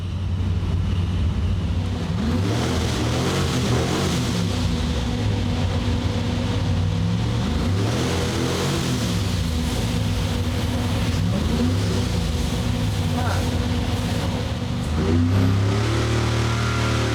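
A boosted small-block Chevy engine roars on a dyno during a pull, revving up toward 7,500 rpm. The engine note stays loud and continuous, with pitch sweeping up and down, and no one talks.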